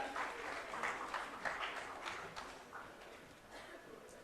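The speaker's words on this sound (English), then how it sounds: "With a big round of applause, ladies and gentlemen," An audience at a sports conclave in Lucknow claps in a steady, moderately loud round of applause that holds for several seconds.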